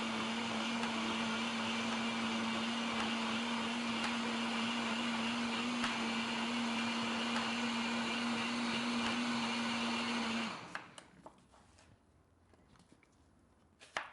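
An electric blender whirs steadily while blending chopped apples, a loud continuous hum with a steady pitch for about ten seconds before it shuts off, leaving faint clattering and handling noises.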